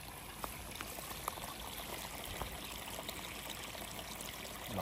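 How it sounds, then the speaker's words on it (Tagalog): Strong irrigation water gushing through a rice field channel, a steady broadband rush that stays constant and fairly close for the whole stretch, with no voices over it. "Malakas na ng tubig yan, o tingnan mo."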